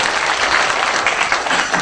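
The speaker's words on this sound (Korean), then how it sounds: "우리 직원들과 또 우리 출판사 대표 되시는 우리 허철 목사님 또 허정분께 우리 박수를 드렸으면 좋겠습니다" Applause from a gathering honoring a publishing house's staff and its director, a dense, steady wash of many hands clapping at close range for the whole stretch, with no break.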